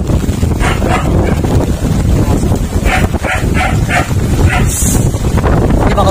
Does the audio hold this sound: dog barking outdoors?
yes